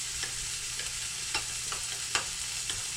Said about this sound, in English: We're caramelizing the onions.